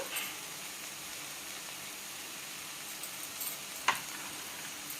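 Vegetable manchurian fries gently in a pan on a low flame, making a faint, even sizzle that runs steadily, with a single sharp clink of a utensil near the end and no talking.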